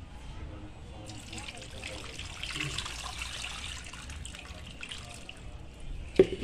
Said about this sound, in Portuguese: você vai colocar água